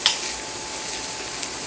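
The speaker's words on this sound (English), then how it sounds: "start with our pork and beef. Get that fried up." Pork and beef frying in a pan for Louisiana dirty rice dressing, a steady close hiss of sizzling fat with a faint clink near the start, no talking.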